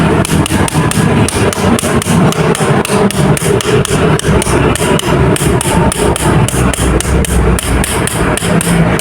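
Steady rapid hammer blows ring out as a bearing is driven into place at a roadside shop, loud, close and evenly rhythmic throughout with no talk.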